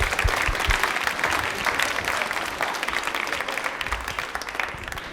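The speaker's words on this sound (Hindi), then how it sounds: "शेखर जी के लिए तालियां हो जाए जोरदार वाली।" Enthusiastic applause from an audience at a quiz event, a dense, steady clatter of many hands clapping for about five seconds, fairly close and evenly sustained.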